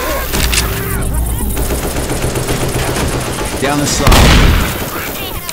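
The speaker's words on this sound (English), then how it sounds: "Can you stop shooting me?" Rapid automatic gunfire in Left 4 Dead 2 during the Dark Carnival campaign, dense sustained bursts with a heavier boom near the end, loud and close, with a voice speaking over the shooting.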